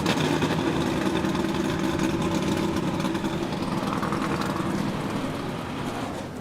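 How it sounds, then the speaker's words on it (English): NASCAR Gander Outdoors Truck Series trucks at Texas Motor Speedway start up and idle together, a dense, loud and steady engine rumble that fades slightly toward the end. "Drivers, start your engines!"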